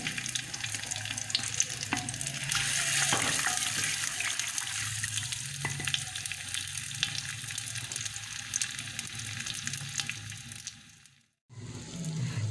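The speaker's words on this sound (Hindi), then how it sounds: "हमारा जो ऑयल है वो गर्म हो चुका है और अब हम इसमें डालने लगे हैं प्याज।" Onions dropping into hot oil for a beef korma, frying with a steady loud sizzle and occasional stirring, then a brief silent gap before the sizzle resumes.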